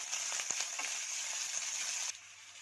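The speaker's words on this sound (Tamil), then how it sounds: "இஞ்சி நல்லா வதங்கணும், எண்ணெயில் நல்லா வதங்கணும்" Ginger frying in oil for a ginger pickle gives a bright, continuous hiss of sizzling with small crackles, close and fairly loud, then cuts off abruptly near the end.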